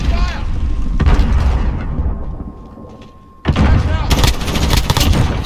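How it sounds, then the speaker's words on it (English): Grenade blasts and gunfire from the Call of Duty Modern Warfare beta multiplayer: heavy booming bursts and rattling shots, loud and dense, with a short lull before another sharp blast and continued firing, under radio-style voice callouts. "Throwing grenade."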